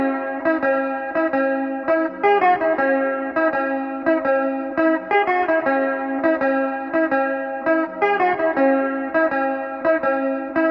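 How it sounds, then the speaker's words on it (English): Distorted electric guitar plays a repeating lead pattern drenched in chorus and reverb, steady picked notes cycling through the same phrase, loud and upfront with no voices. "Then we have guitar track 2, which is the iconic lead pattern to this song"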